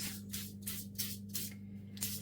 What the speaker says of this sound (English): I've got a little spray bottle. I'm just gonna